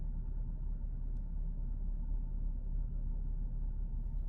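A Lexus SC300 project car idles quietly, a low, even engine rumble held steady and close with nothing else over it.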